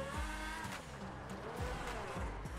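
A race car in GTA 5 roars at high revs with repeated tire squeals and skids, the engine note rising and falling steadily, loud and close with no talk.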